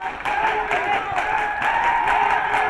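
Football fans in the stands at a league quarterfinal match cheer and clap in a steady crowd roar, with a commentator's voice over the noise.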